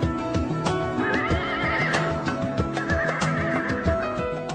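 A horse neighs loudly and repeatedly during riding practice at an Islamic boarding school, with hoof clip-clops and other stable noise mixed in throughout.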